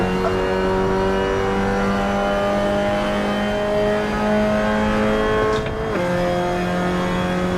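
Race car engine in Assetto Corsa at Virginia International Raceway, droning steadily at high revs with a brief dip and shift near the end, loud and continuous with no talk.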